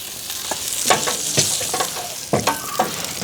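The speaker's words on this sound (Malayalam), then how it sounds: "ആ ജീരകം അങ്ങോട്ട് ഒന്ന് മൂക്കുമ്പോൾ ഒരു പച്ചമുളക് അരിഞ്ഞത് കേട്ടോ." Cumin seeds and chopped green chili frying in ghee give a close, steady sizzle, punctuated by several sharp scrapes and clinks of stirring.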